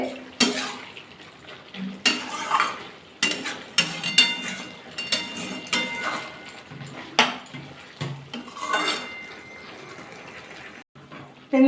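Bottle gourd greens (laushak) stirred in a pan with a utensil, giving repeated scraping and clinking strokes in an irregular rhythm, close and moderately loud with no talking.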